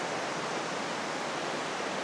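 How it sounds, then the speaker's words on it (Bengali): Water pouring down inside a 330-meter cave in Perlis, a loud, continuous broadband rush like a waterfall filling the space. "পানি নামতেছে, সেই পানির আওয়াজ।"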